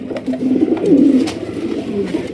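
Bombay pigeons cooing steadily up close, a low, throaty rolling coo that swells and repeats over a couple of seconds, with no one talking.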